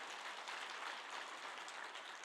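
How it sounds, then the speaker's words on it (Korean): A church congregation applauding, a steady, faint wash of clapping heard from a distance and lasting the whole short stretch. "우리 하나님께 영광의 박수를 한번 드리겠습니다."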